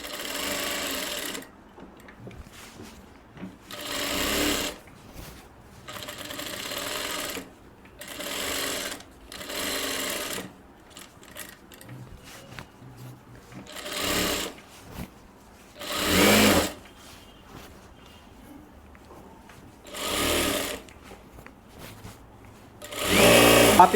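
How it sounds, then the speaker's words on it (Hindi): Sewing machine stitching a strip onto the collar of a coat collar kurti, running in repeated short whirring bursts of a second or so separated by quiet pauses, close and clear with no talking over it. "ऐसे आपको पूरे साइड में जो है यहाँ पे सिलाई लगा देना है।"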